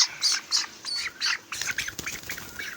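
A 23-day-old broiler chicken gives a string of sharp, high squawks and chirps, about a dozen short calls in quick succession, close by with no talk.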